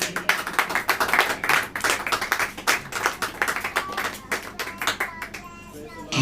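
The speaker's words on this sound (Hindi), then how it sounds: "ताली बजाइए।" A church congregation claps along at a Hindi sermon, steady rhythmic hand claps in a fairly even beat, moderately loud and close, with a voice briefly heard near the end.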